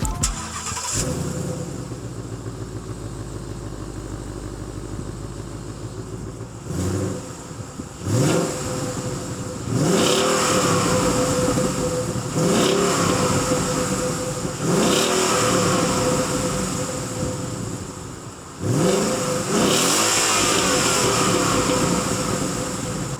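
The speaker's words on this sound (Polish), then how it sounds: "Ustawię teraz tutaj kamerkę przed Wami, żebyście mogli sobie posłuchać, a ja odpalę silnik." A Ford Mustang S550 GT with a V8 and automatic gearbox starts up close by, then settles into a loud steady idle and is revved in repeated rising bursts, each surge falling back to idle.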